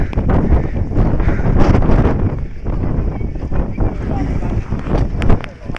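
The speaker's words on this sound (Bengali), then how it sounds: "কিছু শীতল বাতাস বেশ ঠান্ডা হাওয়া" Cold wind buffets the microphone on a hilltop road above Pokhara, Nepal, near the Pumdikot Mahadev temple, making a loud, continuous rumbling roar that swells and dips throughout.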